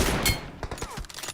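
M24 sniper rifle shots ring out in the PUBG battle royale game, a loud close blast at the start followed by rapid, fainter distant cracks and pops.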